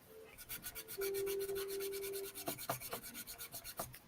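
Hand sanding on a metal casting with a rough pit from the casting process, a steady series of short rasping strokes in a quick rhythm, close and moderately loud, with a brief sustained hum partway through.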